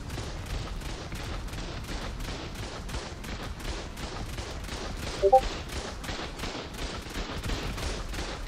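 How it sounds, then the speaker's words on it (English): An automated turret in ARK keeps firing in a steady, evenly spaced string of sharp shots, about two per second, with a brief louder thud partway through. "it's the fucking turret that's shooting you"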